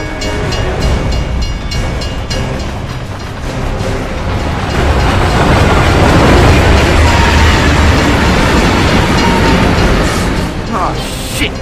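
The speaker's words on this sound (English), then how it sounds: "It's a bloody train coming the other way!" In Gears of War 3, a train thunders through a tunnel, a loud, continuous rumbling roar that swells toward the middle and holds steady, with faint voices underneath.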